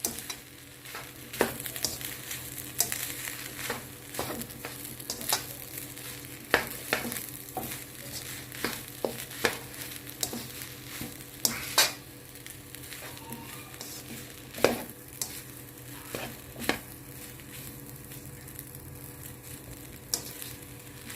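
Egg, spinach and chorizo fried rice is stirred in a frying pan, with a gentle sizzle under repeated close scraping and tapping of the utensil against the pan at an uneven pace, with no one speaking.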